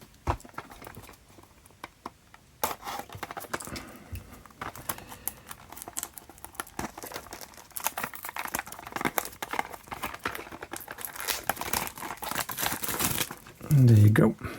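Plastic blister packaging of a Mini GT model car being cut open and unwrapped, with close crinkling, rustling and tapping throughout and a person talking over it.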